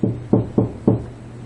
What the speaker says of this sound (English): The wolf, a little out of breath from running, arrived at Grandma's house and knocked lightly at the door.